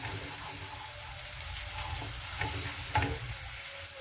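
Red chilli powder, turmeric and salt being stirred in a frying pan over a steady sizzle, with a spoon scraping and a couple of soft knocks near the end, close and with no talking.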